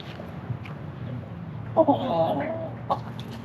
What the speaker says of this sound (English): They have chickens under their solar system.